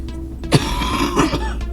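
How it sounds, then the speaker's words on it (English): A person gives two short, throaty coughs about half a second apart, close to the microphone, with a low steady hum underneath and no speech. "I am so sorry for that coughing."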